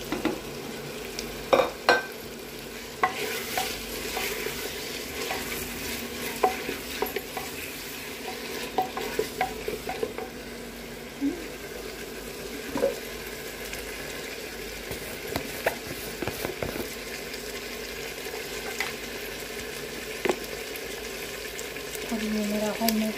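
Tomatoes frying and being stirred in a pan while cooking chicken palak, with a steady close sizzle and repeated scraping and stirring clatter running throughout.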